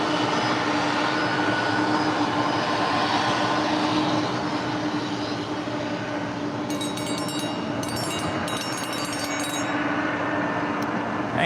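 An airliner takes off from runway 25 left at LAX, a steady, loud broadband jet roar that holds for the whole stretch, with a faint high hiss and chatter entering toward the end.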